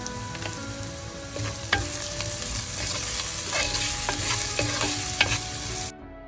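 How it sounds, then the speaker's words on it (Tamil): Sliced onions, salted and with chopped garlic and crushed ginger, sauté in a pan for a mutton curry: a loud close sizzle with repeated metal spoon clinks and scrapes as they are stirred, ending abruptly. "இப்போ இந்த வெங்காயம் எல்லாம் நல்லா வதங்கிட்டுது."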